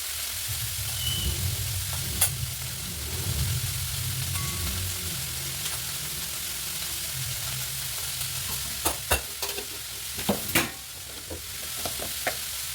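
Spices stirred and frying in a home kitchen pan, a steady sizzle with scraping spoon strokes and a few sharp clinks of utensil against metal toward the end, close and moderately loud, no talking.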